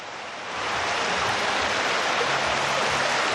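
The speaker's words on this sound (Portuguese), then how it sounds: "Também em Itaguaí, um morador gravou este córrego transbordando." A flooded stream overflowing its banks and nearly topping a bridge in Itaguaí during heavy rain, a steady, loud broadband rush of water that swells in over the first half-second and then holds constant, with no voices.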